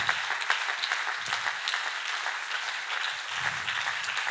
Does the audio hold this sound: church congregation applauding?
yes